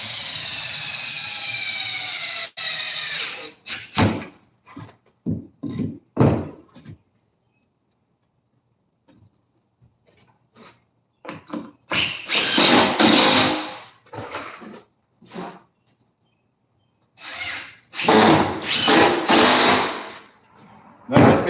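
A power drill drives screws into coffin wood during coffin building, with bursts of whirring and bursty clatter separated by quiet pauses, heard close and loud with no talking.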